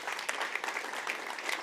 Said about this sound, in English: Let's give another round of applause for all the vignettes.